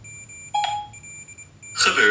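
A phone rings at Siri's command: short electronic tones come one after another with a brief beep in the middle, then a burst of noisier sound near the end while the room stays quiet.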